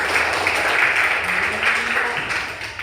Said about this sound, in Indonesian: Baik, tepuk tangan dulu pagi ini.